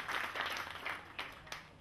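Audience applause welcoming a speaker onto the stage at a GIT Day event in Assam, a dense, steady wash of clapping across the whole moment with a couple of sharper claps near the end.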